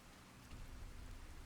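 Steady rain pouring indoors in the video game Fallout New Vegas, a dense even hiss with a low rumble that swells slightly after a moment, faint and continuous with no talking.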